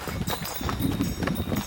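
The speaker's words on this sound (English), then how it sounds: "I'm riding a horse with this other cowboy." Horse hooves clop in quick, uneven beats while a rider travels a trail in the Sierra de San Francisco, close and fairly loud, with some rustle around them.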